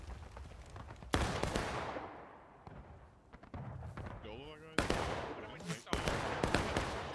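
Heavy booming cannon shots landing in the Civil War video game War of Rights, several loud blasts with long rumbling tails, mixed with distant gunfire while players talk.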